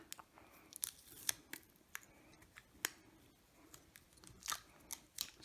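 Scissors slice through strips of tape in short, crisp snips, close and quiet, spaced a second or so apart with faint handling rustles between cuts.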